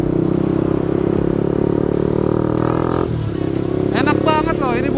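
A modified Honda CB150R Streetfire motorcycle on a test ride, a steady close engine hum with wind noise, a brief dip as it shifts, and a voice talking over it near the end.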